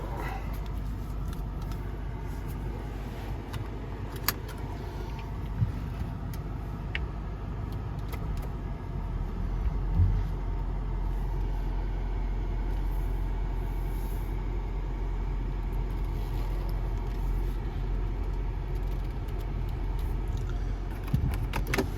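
Steady low engine rumble and road noise from inside a moving 2016 BMW X5 with a 4.4L turbo V8, continuous throughout with a few faint rattles.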